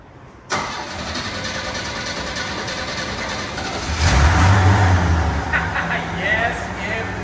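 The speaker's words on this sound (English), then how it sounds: "Let's twist the key and fire this thing up." A 1981 Chevy Stepside pickup with a 4-speed turns over and fires up about half a second in, then settles into a steady close idle and revs up briefly around the fourth second.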